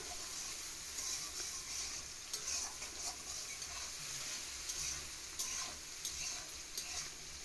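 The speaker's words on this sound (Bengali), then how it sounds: "সামান্য একটু তেল দিয়ে সর্ষে ফোড়ন দিয়ে আলু কটা ভেজে নিয়ে" A steady, soft sizzle of potatoes frying in a little oil with mustard seeds, with a few faint scrapes and stirring sounds, and no voices.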